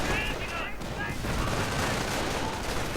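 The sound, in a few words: gunfire and artillery in a war video game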